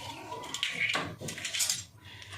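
Utensil clinking and scraping against a bowl while an egg is mixed into batter for a restaurant-style bhola fish fry, with a few close, irregular clatters and a steady scrape.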